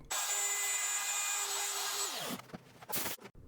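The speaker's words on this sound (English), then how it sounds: "go ahead and route this side of the actual dust chute" A power router cuts along the side of a wooden dust chute at a 1/8-inch depth, a close, steady whine for about two seconds before spinning down, followed by a few clunks and handling knocks.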